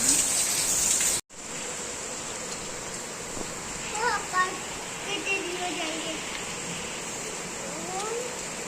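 Heavy rain pours onto a village house roof in a constant dense hiss of falling water, broken by a brief cut near the start, with a voice speaking faintly underneath.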